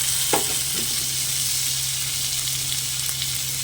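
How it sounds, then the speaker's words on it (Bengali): Chopped tomato fries on a low flame in a pan with onion, ginger, garlic, salt and chili powder, sizzling steadily and loudly, with a couple of stirring scrapes early on. "এবার আমি ভালো করে টমেটোটা কষিয়ে নেব যতক্ষণ না নরম হচ্ছে"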